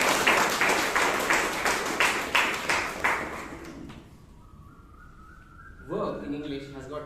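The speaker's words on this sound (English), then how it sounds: "Can we now have a round of applause for Bangalore?" An audience at a Toastmasters club meeting in Bangalore claps in a burst of fairly close applause that fades out after about four seconds, followed by a tone and a few faint sounds.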